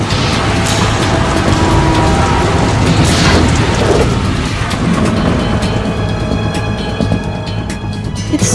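Rain and thunder in the video game Metal Gear Solid 2 make a loud, steady wash of rainfall with deep rumbling booms, heaviest in the first half and easing slightly toward the end.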